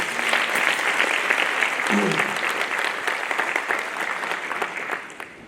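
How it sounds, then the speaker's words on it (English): An audience at a matric awards ceremony gives a round of applause, dense and steady clapping from a large crowd that holds for several seconds before tapering off at the end. "Can we give these stakeholders a nice round of applause."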